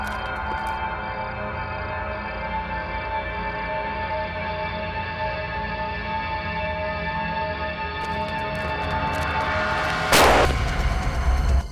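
In a Hindi crime drama, a single sharp, loud gunshot cracks near the end, cutting through a steady droning tonal background, with no talk.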